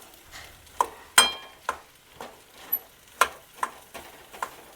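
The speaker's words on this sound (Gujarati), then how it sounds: "આપણે ખીચડી નાખ્યા બાદ જો આ રીતનું આપણે મિક્સ કરી વાળવાનું છે" Leftover khichdi is stirred and mixed in a pan while it fries. A spoon scrapes and clinks against the metal in a regular series of sharp strokes over a soft background sizzle, with no talking.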